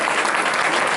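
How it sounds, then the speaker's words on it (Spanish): A dense burst of clapping from a church congregation, steady and loud throughout, with no voices standing out. "Un aplauso de bienvenida para Álvaro."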